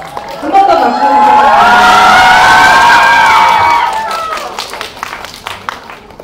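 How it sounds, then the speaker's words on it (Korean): Loud cheering, screaming and clapping from a cinema audience greeting the director and cast of the film The Moon at a stage appearance in a Lotte Cinema in Bucheon, swelling and then fading into scattered claps. "한 번 더 박수 주세요"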